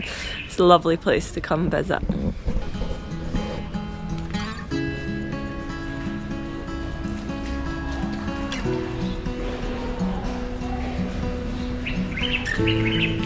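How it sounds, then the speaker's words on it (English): Birds chirp and tweet steadily in the open air in Marrakesh while a person talks nearby over the calls. "You can hear the birds chirping."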